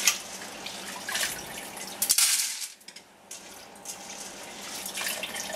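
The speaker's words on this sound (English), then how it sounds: "So I'll just wash it off before I soak it." Food being rinsed under a running kitchen tap while being washed before soaking: steady close splashing water with brief changes as the flow is interrupted, then continuing gurgling and trickling.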